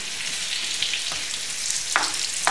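Butter and a little oil sizzling in a pan for glazing vegetables, a close steady frying hiss with a few brief sharper crackles, alone without talk.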